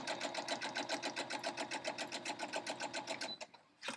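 A sewing machine runs through quilt block seams, its fast even needle strokes pulsing steadily up close for about three seconds before slowing and stopping with a final clunk.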